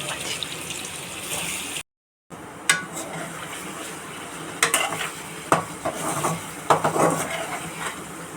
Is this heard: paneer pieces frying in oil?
yes